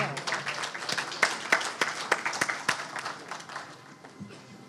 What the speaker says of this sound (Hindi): आप सबकी पुरजोश तालियों में तशरीफ लाते हैं प्रोफेसर मिर्जा अब्दुल कुद्दूस साहब।